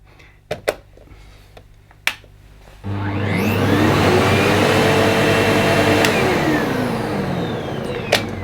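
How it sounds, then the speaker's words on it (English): A household vacuum cleaner plugged into a wall socket starts up after a few sharp clicks. Its loud motor whine then rises to a steady roar and keeps running close by. "The vacuum does have a slight delay when switching on."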